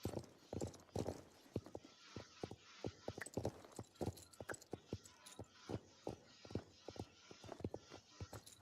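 Horse hooves clip-clop in an uneven walking rhythm, close and clear, with faint rustling between steps.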